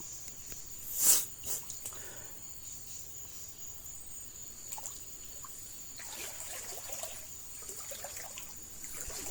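Floodwater trickles and dribbles through an orchard in Chae Hom district, Lampang, after a major flood, giving a faint steady gurgle under a constant high insect whine, with one brief louder splash early on.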